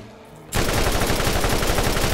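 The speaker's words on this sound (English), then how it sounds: "This gun shoot fast as hell" A fast-firing gun in a video game lets loose a continuous, loud stream of rapid shots after a brief quiet moment, the sustained burst running steadily to the end without pause.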